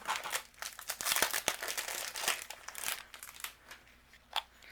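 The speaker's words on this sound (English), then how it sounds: "Hang on, let me get some more tape here." Adhesive tape being pulled and handled at a cardmaking table gives close crinkling and crackling rustles with a few sharp ticks, steady throughout and without talk.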